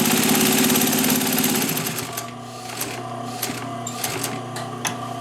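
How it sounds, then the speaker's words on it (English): A Singer 111W industrial needle feed sewing machine stitches in a rapid mechanical chatter, then slows and stops, leaving scattered clicks and taps. "and when I start sewing again"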